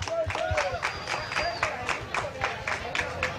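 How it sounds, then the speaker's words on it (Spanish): Applause at a community aid gathering after heavy rains, a ragged burst of clapping with rhythmic beats, mixed with voices and a few whistle-like tones. "un aplauso"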